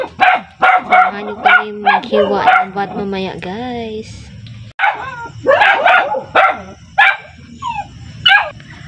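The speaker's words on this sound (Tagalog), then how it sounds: "ang ingay ng aso namin, guys." A dog barks and yips repeatedly nearby while a person talks over it, the barks coming in quick clusters with short pauses.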